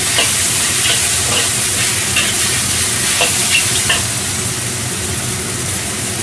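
Instant noodles with plenty of mixed vegetables are stir-fried in a wok, giving a loud, steady sizzle with repeated scraping and tossing strokes throughout, no one speaking.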